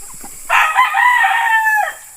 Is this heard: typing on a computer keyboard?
no